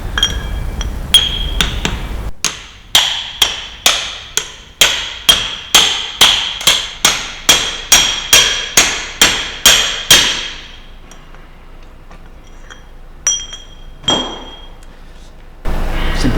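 A Land Rover Discovery propshaft resting on axle stands is struck with a hammer in a steady run of about sixteen sharp metallic blows, loud and close, each ringing briefly before the next, followed by a few scattered lighter taps.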